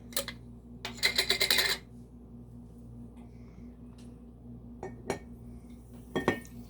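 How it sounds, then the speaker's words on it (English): A metal spoon clinks and rattles against a cup while sugar is stirred into warm tea for kombucha. A dense burst of quick clinks is followed by a few isolated taps, with no talking. "while the tea is still warm, you're gonna take your cup of sugar and mix it in"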